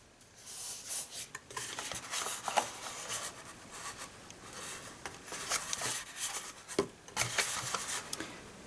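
Paper card box being burnished: soft, repeated rubbing and scraping strokes across the paper, fairly quiet and irregular in rhythm, with no voices.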